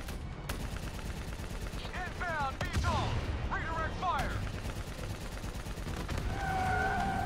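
Rapid bursts of automatic gunfire and explosions in the video game Call of Duty: Black Ops 3, dense and loud throughout, with a sustained tone and whooshing sweeps layered over the shooting.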